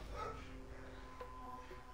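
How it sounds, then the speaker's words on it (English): A house dog barks faintly in the background in a short, quiet burst of yips and whimpering barks. "my dog's barking like crazy again"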